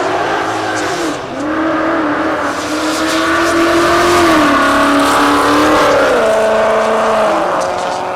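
A drag race car makes its pass at Texas Motorplex in Ennis, Texas, a loud sustained engine roar with shifting, rising pitch as it accelerates down the strip.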